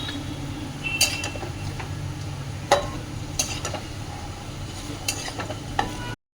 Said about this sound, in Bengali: এই যে বড়িটা ভেজে রাখছি